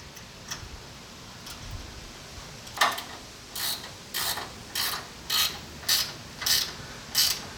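Bolts are ratcheted tight to fix a light bar onto bumper mounts on a 2017-2020 Ford Raptor, a run of regular clicking bursts, each about half a second apart, close and clear with no talk.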